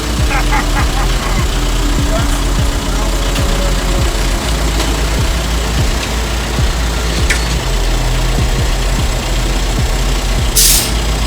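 A Volkswagen Golf Mk4 turbo diesel engine runs steadily up close, its even clattering idle loud and constant, with a brief hiss near the end.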